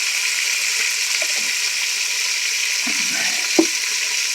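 Chili fries in a hot pan with a constant close sizzle, punctuated by a few soft stirring clinks and one sharper knock near the end.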